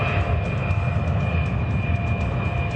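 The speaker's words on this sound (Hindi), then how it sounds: "सुखोई T-50 आवाज से दोगुनी रफ्तार से उड़ता है।" Sukhoi T-50 fighter jet flying, a steady, loud broadband engine roar with a heavy low rumble, continuous and unbroken throughout.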